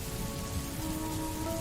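Steady rain falls in a soft, even wash with no voices, at a fairly low level throughout.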